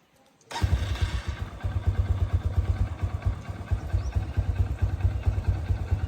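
A 150cc motorcycle engine starts after a brief silence and keeps running with a steady, muted, soft exhaust note, close by and alone with no talk.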